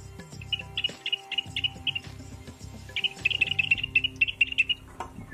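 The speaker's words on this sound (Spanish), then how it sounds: "Dos jilgueros." Two goldfinches sing in quick runs of bright, high chirps, first a short evenly spaced series, then a denser rapid burst, heard fairly close over a faint low hum.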